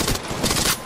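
Gunfire from Apex Legends Mobile on a phone, a short burst of several quick, evenly spaced shots that crackle loudly and continuously for under a second, with no voices.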